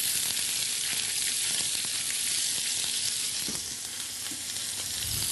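Gambas (prawns) searing in a hot pan give off a loud, continuous hissing sizzle, with a few soft knocks from stirring and no voices over it.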